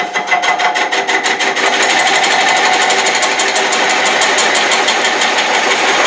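A wood lathe running with a coring cutter starting into the wood, a loud, steady mechanical whir with a rapid rhythmic chatter throughout, close and continuous.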